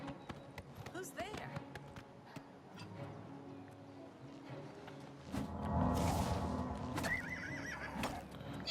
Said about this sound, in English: That was a very expensive horse.